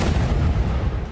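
A bomb blast in Damascus, heard in news footage, comes across as a dense, booming roar of low rumble that fills the whole moment loudly without a break.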